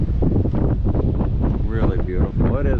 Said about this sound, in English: It's rather windy this morning